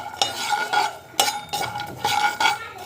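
Walnuts frying in a pan while a utensil stirs them, with repeated scraping and clinking strokes in an uneven rhythm over a light sizzle, close and fairly loud.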